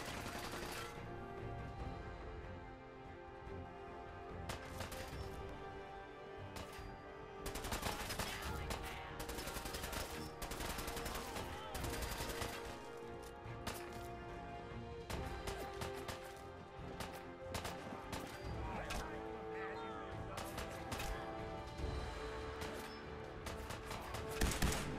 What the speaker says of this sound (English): Righteous Authority works pretty darn good. Not speaking about my disposition, rather my laser pistol here.